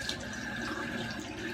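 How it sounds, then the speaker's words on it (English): Hot water runs steadily into a shaving soap bowl with a faint, even trickle and a thin tonal hiss, quiet and continuous with no voices. "I'm going to put just a few droplets of hot water inside."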